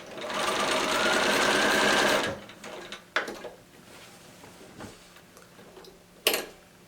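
A sewing machine stitches a bag edge in a fast, steady whir for about two seconds, then stops, followed by a few scattered clicks and small handling knocks.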